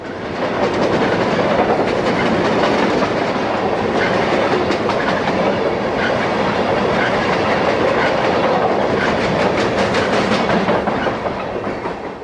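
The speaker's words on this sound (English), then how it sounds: "Amtrak's westbound Capital Limited arrives at Harper's Ferry" Amtrak's westbound Capital Limited passenger train rumbles past up close arriving at Harpers Ferry, loud and steady, with rhythmic clickety-clack from the wheels over the rails throughout.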